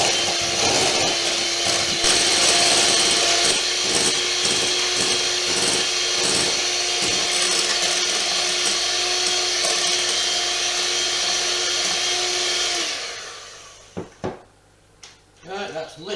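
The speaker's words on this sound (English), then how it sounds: "now we put the caster sugar in with the eggs, and basically we start whisking" Two eggs and caster sugar are whisked together in a bowl, making a loud, continuous whirring buzz with a rhythmic rattle. It runs for about thirteen seconds, then stops, leaving a few scattered knocks and clatters.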